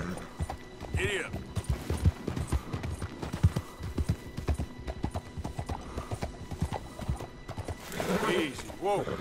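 In Red Dead Redemption 2, horse hooves clip-clop in a steady galloping rhythm, with a couple of whinnies rising above the hoofbeats.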